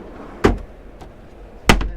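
A small cutlery drawer in the kitchen of a Swift Edge motorhome makes two sharp, close knocks about a second apart as it is opened and shut, with quiet in between.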